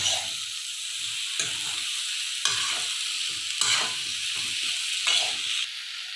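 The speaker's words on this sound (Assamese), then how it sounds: "ছজিনাটো অলপ ভাজি ল'লোঁ" Drumstick (sojina) pieces frying with salted spice paste in a pan, a steady close hiss broken by several sharp bursts of stirring and scraping, with no talk.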